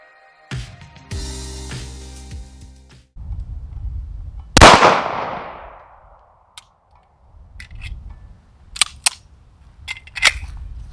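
A single sharp, loud report from a Rock Island Tac Ultra FS HC 2011-style 9mm pistol fired outdoors rings out with a long fading tail. A few faint clicks and handling noises follow.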